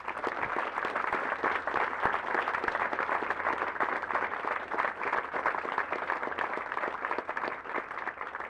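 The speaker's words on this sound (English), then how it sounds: "please join me in giving our awardees a round of applause" An audience at a military cadet regiment graduation ceremony claps for awardees, sustained dense applause from a large crowd that holds steady throughout without pause.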